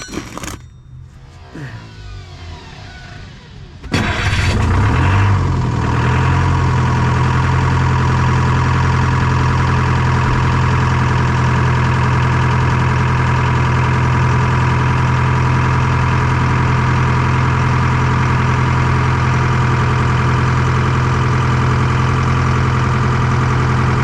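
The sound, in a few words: Detroit 4-53T diesel engine starting and idling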